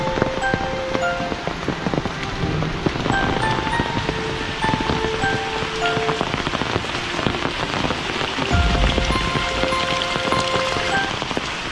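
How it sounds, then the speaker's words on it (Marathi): Heavy rain falls steadily in a village during the first rain of the season, a dense, continuous wash of patter that stays loud and close throughout, with faint tones and a brief low thump in the background. "काय पाऊस पडला आता?"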